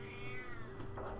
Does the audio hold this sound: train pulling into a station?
no